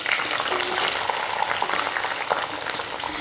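Shallots and fennel seeds sizzling in hot sesame oil for a country chicken pepper gravy, a dense continuous crackling fry with scattered sharp pops, close and fairly loud.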